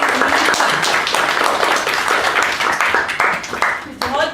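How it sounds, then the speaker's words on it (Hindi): Audience at a 2015 Parents Worship Day event in Sharjah applauds children's speeches, a dense steady clapping that fills the room throughout, with a voice briefly audible near the end. "उनको तालियों से उनका स्वागत करें"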